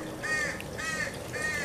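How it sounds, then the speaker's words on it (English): Three drawn-out crow caws, spaced evenly apart and fairly close, rise over a steady outdoor background. A group of crows is gathered beside a creek, and no one speaks. "We have a little crow convention going on."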